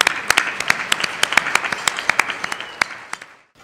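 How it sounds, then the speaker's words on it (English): An audience at a thinkLA automotive breakfast gathering gives a round of applause, a lively mix of many hands with a few sharp nearby claps, fading out after about three seconds. "so give yourselves a round of applause."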